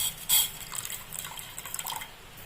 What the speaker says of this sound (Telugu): దీంట్లోకి తగినన్ని వాటర్ని యాడ్ చేసుకోవాలి.